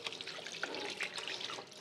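Tap water runs steadily into a washroom basin for rinsing the feet, a close, soft splashing trickle with small drips and no voices.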